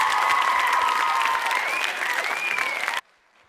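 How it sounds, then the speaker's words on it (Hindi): An audience at a social awards event applauds loudly, with dense clapping and a few cheers and whistles over it, then cuts off abruptly to near silence. "तो एक बार एक जोरदार तालियां हो जाए।"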